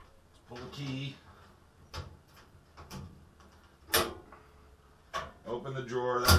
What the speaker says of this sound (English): Open the drawer.